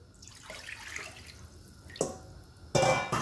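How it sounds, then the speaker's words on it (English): Water pours into a cooking pot while Jamaican oxtail is prepared with allspice and garlic marinade, heard as a soft trickle with brief louder splashes toward the end, no talk. "I'm gonna add a little bit of water in there as well too"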